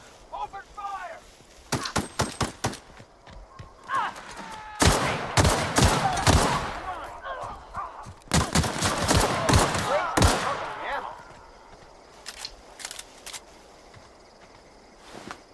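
Gunfire in the video game Helldivers 2 comes in loud rapid bursts of automatic shots separated by pauses, with voices talking between volleys.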